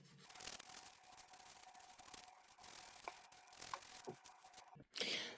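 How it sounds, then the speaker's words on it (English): Stiff bristle brush scrubbing across the skin of the hands to exfoliate, a soft, steady rasping rub close to the mic with short strokes. "Bristle brush and just exfoliate my hands again with this."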